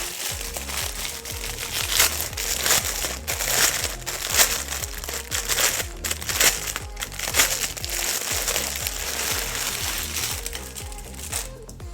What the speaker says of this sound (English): I'm sorry if the crinkling is loud.